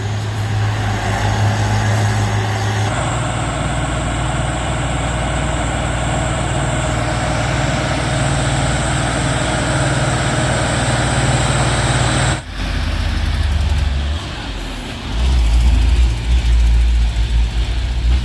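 Heavy truck engine labouring on a steep climb at Bukit Kodok, a loud, sustained low drone with a steady whine above it that cuts out briefly near the end before the rumble returns.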